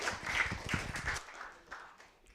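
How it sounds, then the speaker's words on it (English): Audience at a sustainability pitching event clapping, a lively patter of hands that quickly tapers off into near quiet. "give that a round of applause for that last little taste"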